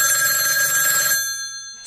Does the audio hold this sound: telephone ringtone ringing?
yes